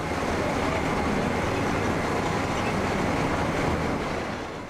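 The Tramway du Mont Blanc, a rack railway train climbing toward Mont Blanc, rumbles steadily in a dense, continuous roar of wheels and motor, heard from on board with no talking.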